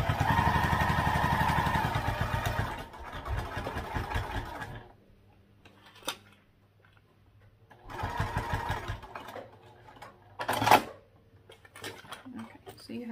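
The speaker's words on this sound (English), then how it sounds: "we'll be top stitching all around all three edges" A sewing machine top stitches around the edges of a crossbody bag in two bursts of rapid, even whirring, each a few seconds long, separated by quiet pauses with small clicks and handling sounds.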